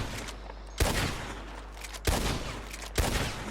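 Gunfire from a cover shooter video game, with three loud bursts of shots, each a sharp attack trailing into a rolling rumble, separated by quieter stretches of background game noise.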